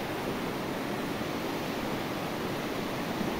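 Steady broadband rush of the Sumpul border river flowing beneath a hanging footbridge, a constant, even wash of water with no breaks, moderately faint and heard alone.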